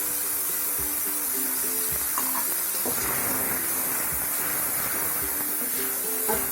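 Eggplant curry with green chili paste and ginger paste being stirred slowly in hot oil in a pan, a steady close sizzle and hiss with soft scraping strokes throughout, no talking.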